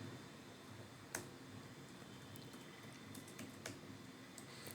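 Faint, sparse taps on a computer keyboard as code is typed, a few separate key clicks over a steady background hiss.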